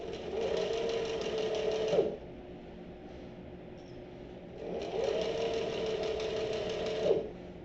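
A cylinder arm sewing machine stitches a messenger bag in two steady whirring runs separated by a quiet pause, close and clear with no talking.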